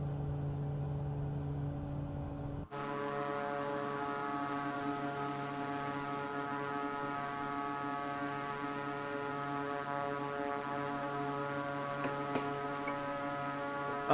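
An aircraft engine throttling up in the video game Microsoft Flight Simulator 2024, a steady tonal drone with layered harmonics that shifts character after a brief cut early on and then holds at a constant level.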